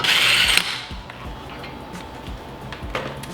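A ratchet works a bolt loose from the brake assembly of an EK Civic. A whirring spin comes first, then a string of light clicking, ticking strokes, close up and fairly loud.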